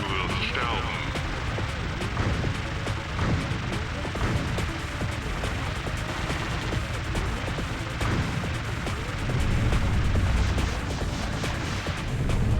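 Rapid Vulcan sub-weapon gunfire in the PlayStation shooter Einhänder, a dense continuous stream of shots and explosions that stays loud and unbroken throughout.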